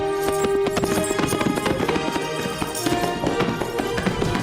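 Horses' hooves clip-clopping steadily as several animals are hurried into shelter, the rapid knocks blending with a busy musical backdrop throughout.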